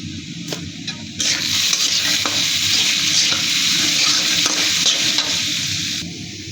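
Turmeric and coriander powder are fried and stirred with lentils in a pan, a bright, continuous sizzle that swells loud and close. Scraping strokes from the stirring run through it, with no speech.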